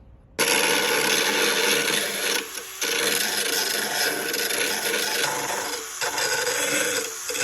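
A hand file rasps repeatedly along the edge of a lawn mower blade to sharpen it, with steady close scraping strokes that pause briefly a few times.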